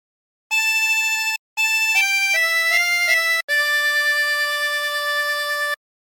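A reedy 24-hole tremolo harmonica plays a slow phrase of "What a Friend We Have in Jesus" in held notes, stepping down in pitch, with a brief pause early on and a long final sustained note.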